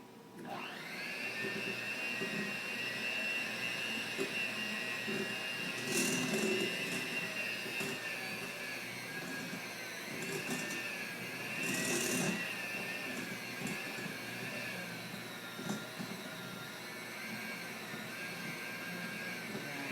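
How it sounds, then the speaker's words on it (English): An electric hand mixer with beaters blending chocolate toffee cookie dough runs as a continuous, steady motor whine for the whole stretch, close and fairly loud, with slight pitch wobbles as the beaters work through the mixture. "So when I do turn on the mixer, the dried ingredients won't go flying."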